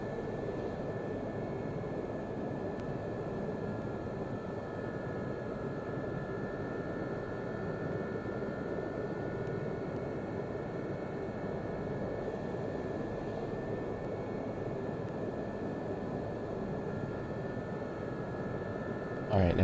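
A Gazelle SA342 helicopter in the DCS World flight simulator climbs with a steady turbine whine and a dense, constant rotor roar that holds at one level throughout.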